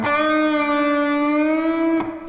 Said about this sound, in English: So without the pinch it sounds like this,